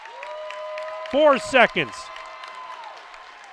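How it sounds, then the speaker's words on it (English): Crowd applause and cheering rise faintly in a high school girls basketball gym as Beaver Dam hosts Monona Grove, a steady wash beneath a close commentator's voice and a sustained tone near the end of the game. "And you hear the applause in the background"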